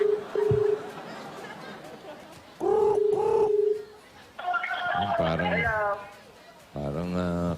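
A pigeon coos in short, repeated soft calls between stretches of lively talk on a noisy television variety show set.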